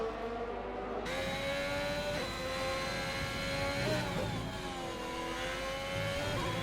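A race car engine in a racing sim held at a high, steady whine, rising in pitch through several gear changes under continuous load.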